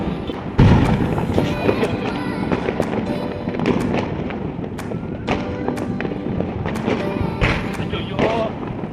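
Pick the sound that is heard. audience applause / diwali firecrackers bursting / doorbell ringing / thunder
diwali firecrackers bursting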